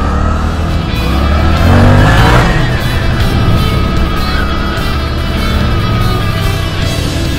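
Suzuki GSX-8S motorcycle engine on a test ride, a loud continuous drone that swells as the revs rise and fall, with steady wind and road noise throughout.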